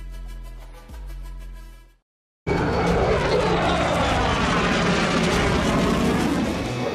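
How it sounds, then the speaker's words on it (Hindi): A fighter jet roars past at full power as a loud, broad, sustained rush that cuts in abruptly after a short silence, following a tonal hum at the start. "मैदानी जंग में हिंदुस्तान का सबसे खतरनाक आसमानी अस्त्र है ये फाइटर जेट।"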